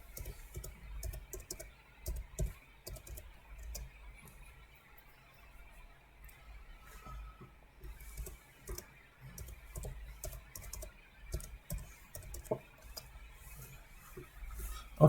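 A computer keyboard being typed on during a terminal update command in an Ubuntu setup, producing a steady run of soft, close key clicks and taps for several seconds, heard alone.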